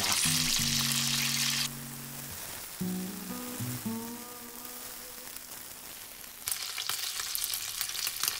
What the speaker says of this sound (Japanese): ベーコンの油がかなり跳ねてコンロがだんだんと油まみれになるんですけど